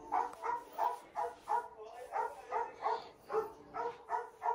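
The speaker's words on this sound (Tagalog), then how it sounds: "may aso na matahol-tahol" A dog barks in a steady series of about a dozen evenly spaced yips and barks, moderately close and fairly quiet, with no talk over it.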